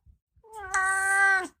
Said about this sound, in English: they really like my co-host, which of course is Bernie the cat